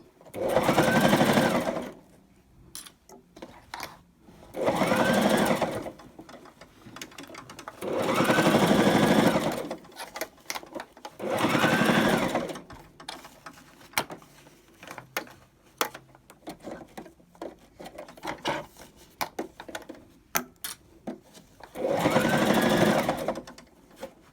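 A sewing machine stitches a tote bag in several distinct bursts of a few seconds each, with quiet pauses and small handling clicks between runs; the whirring is close and fairly loud.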